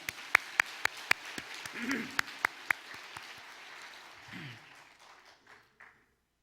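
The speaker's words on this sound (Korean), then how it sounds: "하나님께 감사와 영광의 박수를 올려드리도록 하겠습니다." A church congregation applauds at a Christmas service, with sharp, evenly spaced claps over a soft spread of clapping that thins and fades out. Brief murmured voices come through in the middle.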